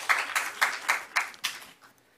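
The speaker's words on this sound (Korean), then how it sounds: "뜨거운 박수 부탁드리겠습니다" Faint, steady rhythmic clapping from a lecture audience in a hall, about six even claps that fade away within two seconds.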